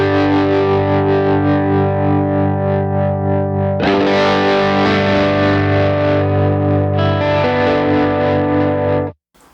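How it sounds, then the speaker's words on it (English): Electric guitar through a tremolo effect synced to dotted sixteenth notes, the chords pulsing rhythmically with heavy processing, loud and close, alone without talk before ending abruptly. "It's literally just tremolo, and then I like to sync it, and then I'll put it to like a dotted 16th or 16th note or something like that."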